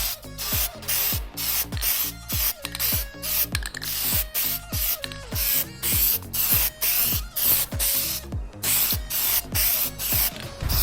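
Aerosol spray paint hisses in repeated short bursts of light coats onto 2024 Ford Mustang badges, close and loud, with brief gaps between passes and no talking.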